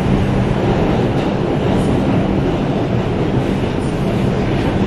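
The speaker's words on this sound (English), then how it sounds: "I was just trying to record, you know, the train in motion." A New York City subway train in motion roars loudly and steadily from inside the car, with a dense low rumble and faint rattling, sustained throughout with no talking.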